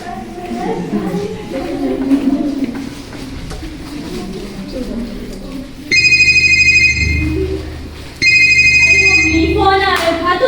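A phone ringtone cuts in twice, loud and bright repeating tones, after a stretch of muffled voices and background chatter at a college event.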